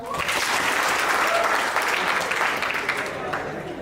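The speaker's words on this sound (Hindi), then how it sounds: "जिनको आ रहा है वो एक बार ताली बजाओ।" Applause from a seated training-session audience, a dense, steady wash of many hands clapping together that holds loud for several seconds before easing slightly at the end.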